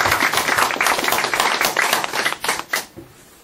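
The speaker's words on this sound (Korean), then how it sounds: "우리 이런 대한민국에 다시 한번 박수를 보내주십시오." Lecture audience claps together in a close, lively burst of many hands, steady for a few seconds before thinning out and fading to a few last scattered claps.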